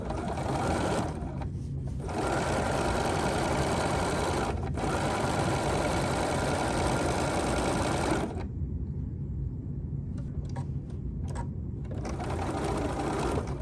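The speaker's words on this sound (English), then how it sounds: "And now we're just going to stitch" Home sewing machine stitching quilt fabric pieces along a quarter-inch guide on the presser foot, a steady continuous whir running up close with a few brief pauses between seams.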